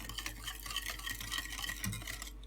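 A spoon stirs sugar, salt and yeast together in a bowl for poğaça dough, a steady, close scraping swirl with faint clinks against the bowl, continuous and alone.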